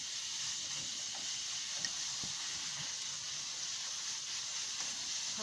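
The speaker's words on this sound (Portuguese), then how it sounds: "Tô fritando a banana." Banana slices fry in a pan at a wild campsite, giving a steady, moderate sizzling hiss that holds without a break, with no talking and a few faint clicks underneath.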